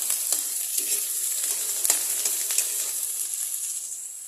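Oysters sautéing in a home pan for ginisang talaba, a steady close sizzle and hiss with scattered pops and crackles, constant throughout with no talking.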